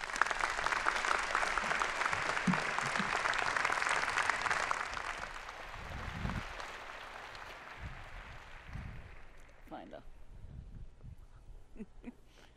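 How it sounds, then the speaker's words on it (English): Large audience applause at a spring university commencement, a dense wash of clapping that holds for several seconds and then fades to scattered claps and quiet hall noise. "Please give them a round of applause."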